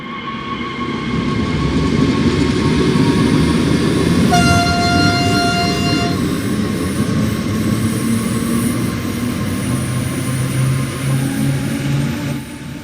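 A DB BR422 electric multiple unit pulling away in Train Sim World 2, loud motor whine and rolling rumble building steadily, with a brief tonal horn-like blast midway and no voices.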